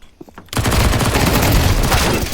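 Loud, sustained burst of rapid gunfire from Counter-Strike on the Dust 2 map erupts after a brief quiet moment and continues as a dense volley to the end.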